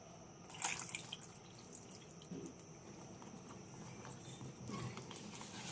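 Ripe pointed gourds are washed gently in a basin of water, giving soft, close splashes and drips with a few brief louder sloshes.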